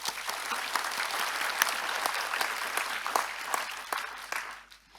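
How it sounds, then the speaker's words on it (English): Steady, fairly distant applause from the audience at a university graduation ceremony in Singapore, continuous for about five seconds before tapering off at the end. "Philip Forrest a round of applause."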